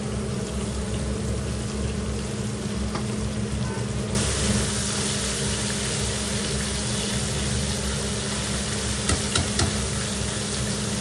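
Koi fish coated in salt and turmeric fry in oil in a pan, filling the clip with a continuous loud sizzle and crackle that turns brighter partway through, with a few sharp pops.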